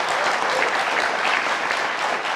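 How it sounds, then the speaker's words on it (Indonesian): A studio audience at a televised post-debate election talk show claps loudly, a thick, continuous burst of applause lasting a couple of seconds. "Tepuk tangan dulu dong."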